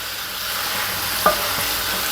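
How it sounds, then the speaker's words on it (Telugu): Chicken pieces with fenugreek leaves frying in a pan hiss with a steady broad sizzle, close and even, broken once by a brief clink of a stirring utensil. "ఇది వేగుతుంది కదండి చికెన్."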